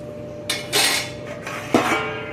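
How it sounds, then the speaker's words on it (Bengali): Spoon scraping and clanking in a pot as fried flat beans and eggplant are stirred into a light drumstick curry, three or four distinct metallic strokes, close and clear with no talk. "দিয়ে সব কিছুকে আবার একটু মিশিয়ে নেব।"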